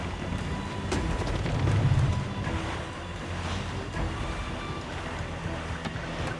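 A sailing ship crosses shallow ocean waters in the video game Assassin's Creed IV Black Flag, with a constant rushing wash of waves and wind against the hull, steady and fairly loud throughout.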